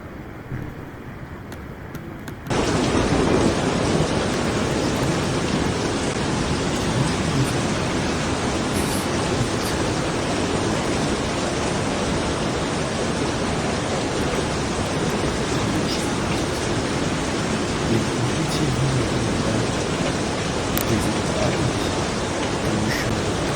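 Heavy rain pours down as a steady, loud, broadband hiss that starts abruptly after a quieter moment and then continues unbroken, with no voices.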